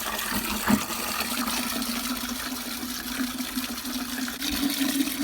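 A watering can fitted with a fine rose sprinkling water over potted bare-root roses, a continuous soft pattering and splashing with a faint hum beneath.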